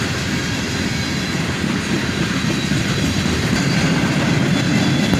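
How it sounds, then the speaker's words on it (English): CSX freight train rolling past with old Chicago Northwestern cars mixed in, a loud, steady broadband rumble with faint rail clatter, continuous and close throughout. "There was a bunch of old Chicago Northwestern cars mixed in on this train."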